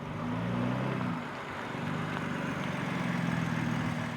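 Steady, low idle from a BMW X4 M Competition's 3-liter inline six-cylinder with sports exhaust, heard close with a deep, even burble and no talking.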